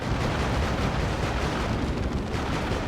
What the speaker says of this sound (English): Tank getting a lot of shots in though